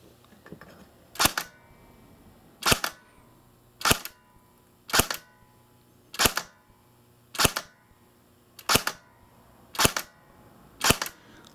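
Elite Force ARX 160 competition-line airsoft rifle on a 9.6 V 1600 mAh battery firing 0.2 g BBs: eight single sharp snapping shots, evenly spaced roughly every one and a half seconds, close and loud with no talk.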